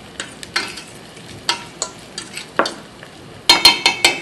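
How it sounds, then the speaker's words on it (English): Onions, garlic and fresh ginger sizzle and frying in a pan, with a utensil scraping and stirring in short strokes, closing in a few louder clatters. "So now that our onions are starting to brown, we're going to add in our garlic and fresh ginger. I'll put that in there and stir it in"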